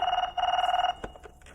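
A telephone rings in two quick trilling bursts, then stops, followed by a couple of soft knocks and clicks.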